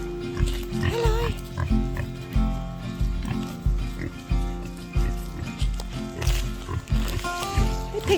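Pigs on a small off-grid farm grunt and oink repeatedly in a rhythmic series of low snorts, close by, while people talk and a higher-pitched tone runs through the scene.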